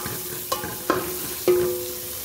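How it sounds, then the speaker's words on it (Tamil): Turmeric and curry leaves stirred in a rasam pan: a few scraping strokes and metallic taps of the spoon against the pan, close by, over a steady background hiss. "இது நல்லா கலக்கி விட்டுருங்க."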